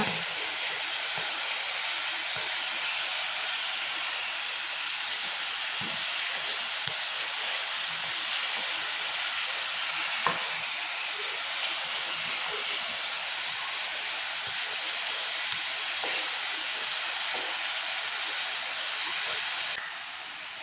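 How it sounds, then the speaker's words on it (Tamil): Mushrooms sauté in a pan for a mushroom kuruma, giving a steady, even hiss of steam and frying with faint crackles and a few soft ticks, continuous and fairly loud with no voices. "காளான் நல்லா வதங்கட்டுங்க."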